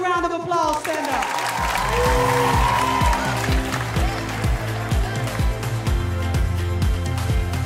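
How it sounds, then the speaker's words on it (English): Audience applause at a Black History Month community event runs throughout, mixed with music that has a tonal opening and a steady rhythmic beat. "Give yourselves a round of applause."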